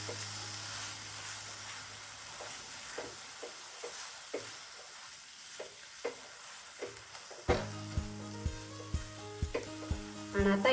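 Paneer tikka masala gravy frying in oil in a pan, a steady sizzle with scattered stirring clinks and scrapes of a spoon, busier and louder toward the end.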